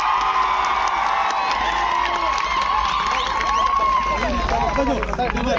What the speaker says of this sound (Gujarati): તમામ તાળીઓથી જોરદાર વધાવી લઈશું એમને.